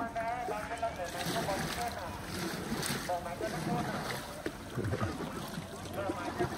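A kayak moves through water in a national park in Vietnam, with paddle splashes and lapping water mixed with wind noise. Voices can be heard faintly in the background.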